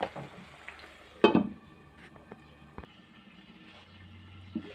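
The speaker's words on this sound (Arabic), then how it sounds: "نخليهم يتقلاو ولازم نقلبهم كي يتقلاو من الجهه التحتانيه نزيد نقلبهم من الجهه الفوقانيه باش ياخذوا تحميره تاع السمن" Chicken pieces fry in ghee in a pan, giving sparse quiet crackles and pops, with one louder clatter early on against a mostly calm background.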